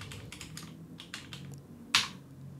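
A password typed on a computer keyboard during a server setup, soft quick key taps in a short run ending in one sharper, louder keystroke, likely Enter, with no talking.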